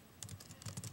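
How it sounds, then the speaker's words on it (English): Fingers typing on a computer keyboard, a quick irregular patter of close, quiet key clicks in two short bursts. "She's typing."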